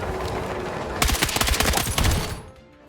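Rapid bursts of gunfire in the shooter Battlefield 6, a dense close-quarters firefight of overlapping automatic shots that erupts after a quieter stretch, rattles on loudly for about a second and a half, then drops away.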